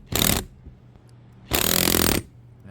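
A ratcheting socket tightening a bolt on a patio roof riser bracket gives two close bursts of rapid metallic clicking, one short and one longer, with quiet pauses between them.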